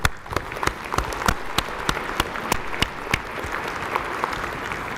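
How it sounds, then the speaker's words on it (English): At an awards banquet during a scientific society's annual meeting in Atlanta, a large audience applauds the award reviewers with steady, moderately loud clapping and a few sharp individual claps standing out throughout. "Please applaud those that participated as reviewers in the awards"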